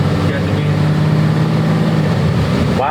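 A Toyota Hino 268 diesel truck engine roars loudly and steadily under hard acceleration, a thick close-up drone heard from inside the cab.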